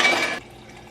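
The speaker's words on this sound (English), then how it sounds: "Filling up water number 2." Water gushes from a tap into a bottle in a brief, loud burst that cuts off abruptly, leaving quiet room tone.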